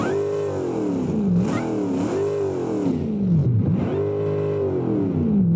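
Supercharged 6.2-liter Hellcat V8 in a car built in Automation and driven in BeamNG, revving loudly in several rising and falling sweeps, heard up close with no talking.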